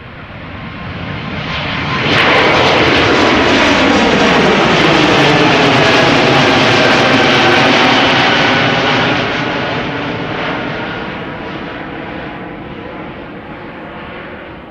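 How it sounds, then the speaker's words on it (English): An Air France Airbus A220-300 (Bombardier C Series 300) passes at Schiphol Airport, its engine roar swelling after about two seconds into a loud, broad wash that holds steady, then slowly fades as the jet moves away. "Air France flight 1341, Bombardier C Series 300 or A220 going to Paris Charles de Gaulle."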